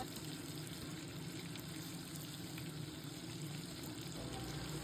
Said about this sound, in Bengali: চিংড়ি মাছটা হালকা করে ভেজে তুলে রাখবো